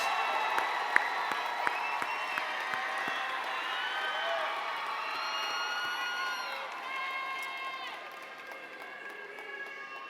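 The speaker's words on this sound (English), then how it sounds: "Can you give the class of 2025 at Therrell High School a large, loud round of applause?" A crowd at a Therrell High School graduation ceremony cheers and applauds. Whoops and raised voices ring out over a steady layer of clapping, which eases off slightly toward the end.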